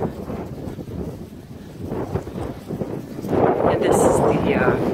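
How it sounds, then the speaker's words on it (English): Gusty wind buffets the microphone in rough, uneven blasts that grow stronger toward the end, with a voice faintly underneath. "It's a windy day."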